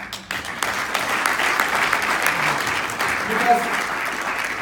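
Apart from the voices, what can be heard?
audience applause for mentors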